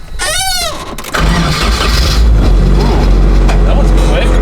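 A Nissan S14 Kouki engine cranks briefly with a rising whine, then catches and settles into a loud, steady idle close by.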